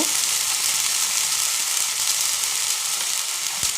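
Spice paste of cumin, ginger, garlic, onion and turmeric sizzles steadily and loudly in hot oil as it is sautéed for a potato and pointed gourd curry, a continuous close hiss with no voices.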